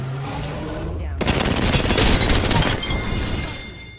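Rapid video game gunfire erupts as a loud, dense burst of shots lasting about two seconds, then tapers off, with a player's voice faintly underneath.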